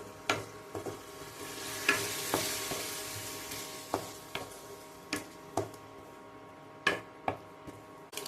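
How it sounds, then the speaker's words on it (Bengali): Mutton in a frying pan gets stirred with cumin and turmeric powder, a low sizzle underneath repeated sharp spoon taps and scrapes against the pan at irregular intervals, close by with no talking. "ভালো করে আমি এটাকে মিশিয়ে নিচ্ছি"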